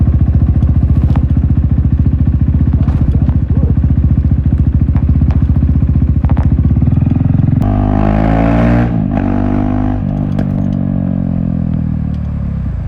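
KTM 390 Duke single-cylinder motorcycle running with no exhaust fitted, a loud, bassy, close-up idle with a rapid thumping pulse that shifts pitch partway through as the engine settles, with clattery mechanical noise.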